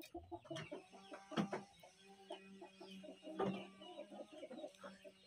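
A rooster clucks close by while being fed, repeated short throaty calls in an uneven rhythm with occasional louder squawks.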